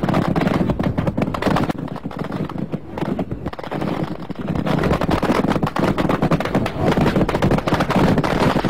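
37mm anti-aircraft guns firing from Chinese battleships at a reef in the Spratly Islands in 1988, a loud, dense, unbroken roar of rapid shots that barely pauses for nearly nine seconds.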